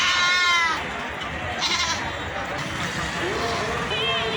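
Goats and sheep bleat loudly nearby amid a noisy crowd at a large livestock market, with more bleats from other animals and background chatter.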